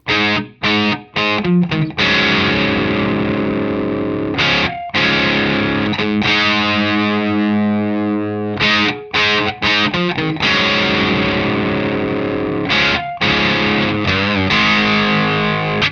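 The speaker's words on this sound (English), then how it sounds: "the glorious overdriven tone that's on all your favorite classic rock albums" Loud, sustained overdriven electric guitar through a modified Marshall 1959 Plexi tube amp head, playing thick distorted chords and riffs, with brief pauses between phrases and a warm, saturated amp crunch.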